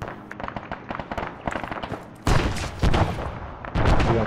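Rapid gunfire in the military shooter Arma 3, dense overlapping rifle shots and bursts that grow louder and heavier partway through, close and continuous.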